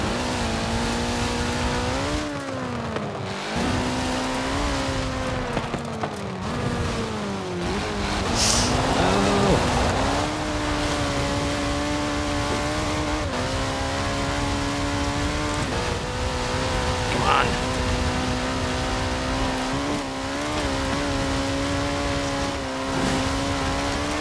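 A stock 1985 Ford RS200 Evolution rally car driven in Forza Horizon 4 roars loudly and steadily, its engine pitch repeatedly rising and dipping through gear changes, with brief tire squeals along the way.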